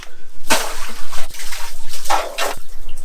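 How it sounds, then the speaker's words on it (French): Holy well water sloshing and splashing as pilgrims fill a bucket at a well beside a mausoleum in Kazakhstan, with bursts of pouring and a few sharp knocks of the bucket, close by. "les fidèles remplissent ce seau dans ce puits d'eau bénite"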